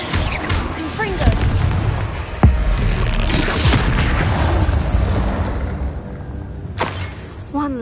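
A Confringo explosion spell blasts in the Hogwarts Legacy video game, with sharp booming impacts and thuds amid loud, busy combat noise, and a voice speaking briefly in the mix.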